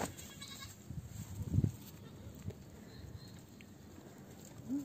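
A young goat kid bleats faintly amid quiet barn sounds, with a louder cry near the middle and a shorter one at the end, over soft background rustling.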